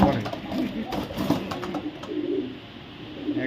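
A pair of muffed Afsan bagha pigeons coo softly and continuously at a pigeon market stall, low murmuring calls overlapping at close range with faint chatter and background bustle.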